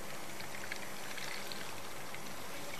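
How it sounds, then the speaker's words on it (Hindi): Water poured into a pan of browned ginger-garlic paste sets off a steady, dense sizzle and bubbling hiss that holds at an even level throughout, close by, with no voices over it. "उसके बाद हम इसमें शामिल करेंगे पानी"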